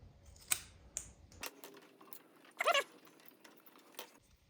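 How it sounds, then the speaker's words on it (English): A hose being cut at the ends while an idle air control valve is replaced on a 2007 Harley-Davidson Electra Glide with a 96-inch twin cam, heard as a few sharp close snips and clicks amid quiet workshop handling noises. "I'm going to cut the ends off."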